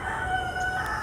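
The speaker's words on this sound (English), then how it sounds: "Not my rooster, neighbor's rooster, but she don't shut up." A neighbour's rooster crows in one sustained, loud call with strong harmonic bands, heard out in a quarter-acre spring vegetable garden with no talk over it.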